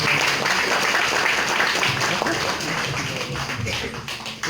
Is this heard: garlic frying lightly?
no